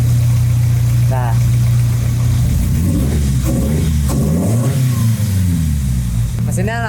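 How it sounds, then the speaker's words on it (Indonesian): A car engine runs at a steady, smooth idle just after being started on a Speeduino standalone ECU, its low hum continuous and close throughout, with voices talking over it. "Mesinnya langsung bisa idle dengan tenang"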